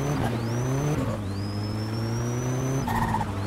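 A car with a turbo drives in the video game My Summer Car, its engine droning loudly with steady revs, gear changes and a high turbo whine rising over it.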